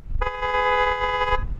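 A single car horn blares in one steady, loud honk lasting about a second, close by.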